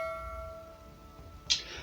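A short bright bell-like notification chime rings out once near the end, following a few steady sustained tones, fairly quiet overall with no talking.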